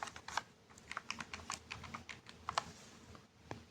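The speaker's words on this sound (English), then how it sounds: "I'll just type this into the calculator" Fingers tap numbers into a calculator in quick, uneven clicks, close and quiet, with no other sounds.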